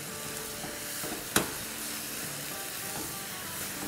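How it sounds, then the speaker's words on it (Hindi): A chicken mixture with cumin powder, salt and a chicken stock cube sautéing in a pan, a steady soft sizzle with a single sharp click, moderately quiet and continuous with no talk. "तो बस अब 2-3 मिनट हम इसे भून लेंगे"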